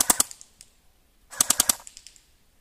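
Two short full-auto bursts from an AKM-style airsoft rifle, crisp rapid mechanical cracks, each burst of about four to six shots trailing off into quiet, heard close.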